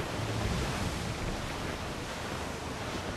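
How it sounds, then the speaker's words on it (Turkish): Stormy sea waves crash and roar in a continuous dense wash of noise in Assassin's Creed IV: Black Flag, heavy and unbroken with no voices. "Dalgaları yararak fırtınadan çıkmak için elimizden geleni yapıyoruz."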